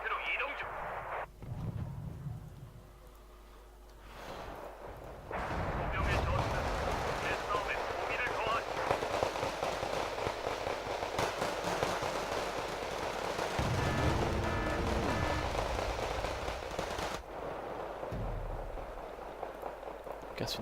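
Gunfire and artillery blasts crackle through a video game battle, bursts of automatic fire and booming impacts rising and falling over about twenty seconds, with a voice talking over parts of it.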